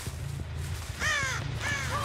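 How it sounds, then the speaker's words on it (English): Two harsh, close caws from a crow in the horror game Dead by Daylight ring out in quick succession, each a raspy falling call over a low steady game drone, with no talk. "I hear a crow."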